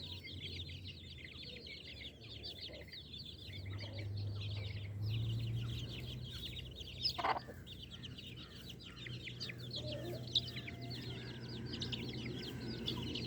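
Hens and chicks in a rural farmyard cluck and chirp steadily in the distance, faint and continuous with a low background hum and an occasional sharper call.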